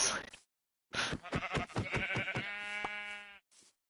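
Sheep in the Minecraft video game bleat in a few short bursts, a longer wavering bleat trailing off at the end, loud and close with no talk over them.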